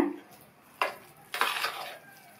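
A spoon scrapes and clinks against a pot while mixing sambar rice, two or three short close knocks and scrapes with quiet pauses between.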